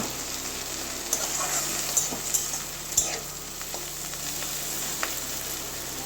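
Bitter gourd and boiled potato frying in oil in a wok, a steady close sizzle with a few sharp clicks of a spatula scraping the pan, no voices.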